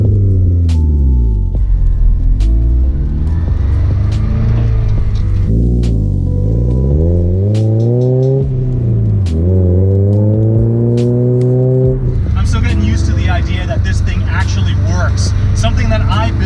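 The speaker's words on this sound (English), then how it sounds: "the exhaust isn't that loud, but it was intended to be that way" A DIY Mazda Miata with an Ecotec engine swap and hand-built exhaust with catalytic converter, resonator and muffler drives past, its engine note rising and falling through gear changes with a moderate, fairly subdued tone, while someone talks over it.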